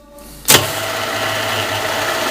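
A milling machine cutting simple slots starts its spindle at 600 rpm with a sudden mechanical clunk, then settles into a steady, close running hum and whir that continues without talking.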